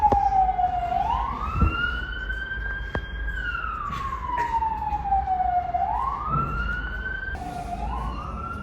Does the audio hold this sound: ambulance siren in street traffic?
yes